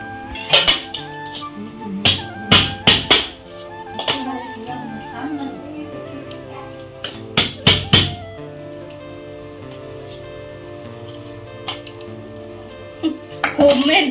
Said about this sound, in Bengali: ছুরি দিয়ে চারপাশটা একটু কাটতে হবে